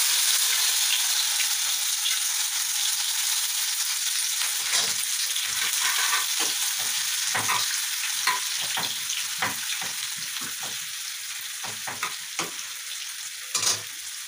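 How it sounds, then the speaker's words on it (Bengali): Chopped onions fry in hot mustard oil in a pan, giving a loud, steady sizzle with a bright hiss throughout, broken by scattered sharp crackles and soft stirring scrapes. "এখন পেঁয়াজ কুচি দিয়ে দেবো।"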